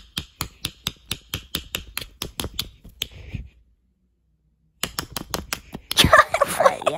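A run of sharp, evenly spaced taps of a quarter coin on an egg, pausing briefly, then resuming with quicker taps and some rustling handling noise.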